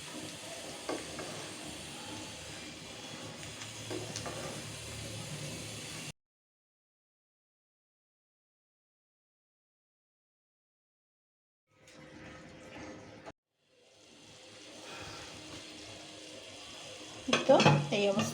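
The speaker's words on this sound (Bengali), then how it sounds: "একটু নাড়িয়ে চাড়িয়ে দিব, আর গুড়টা পুরোপুরি মেল্ট হওয়া পর্যন্ত অপেক্ষা করব।" Date-palm jaggery is stirred into chalta pickle in a pan, giving close, faint sizzling and scraping stirring sounds that stop, leave a long silent gap, then resume with stronger clatter near the end.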